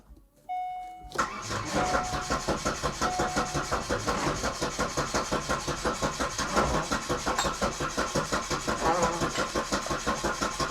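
A Daewoo Nubira that sat unused for five years cranks repeatedly without catching, the starter churning in a fast steady rhythm, close and loud after a brief chime at the start.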